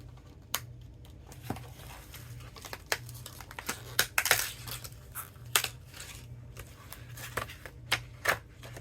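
Paper cutouts of bones and bats being pushed out of a die-cut sheet, a close series of irregular soft crinkles, taps and crisp pops, with no talk.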